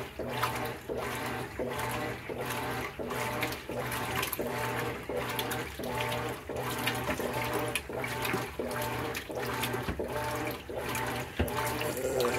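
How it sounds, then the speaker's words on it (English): Continuous sloshing and splashing water churning rhythmically in regular surges, loud and close, from the agitator of a Whirlpool CAE2795FQ commercial washer running a full load of whites. "this is where this agitator gets splashy."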